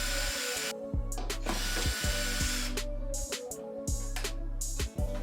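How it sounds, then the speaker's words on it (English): Power drill or driver removing bolts from the top of a Chamberlain garage door opener motor unit (model B6753T), buzzing in repeated short bursts with clicks and ratcheting between them, close and loud. "Remove the bolts from the top of the motor unit."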